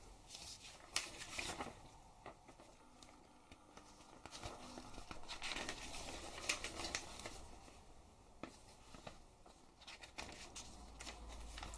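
A paper instruction manual for a WLToys Q696-D RC quadcopter is leafed through, its pages rustling and flicking in soft irregular bursts, close but faint, with no talking.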